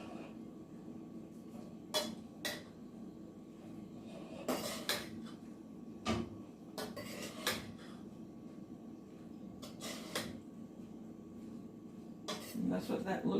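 Collard greens and cumin are stirred in a pot, giving repeated clanks and scrapes of a utensil against metal in irregular bursts over a low background, with a voice talking at times.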